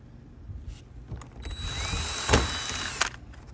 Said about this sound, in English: Careful not to drill too far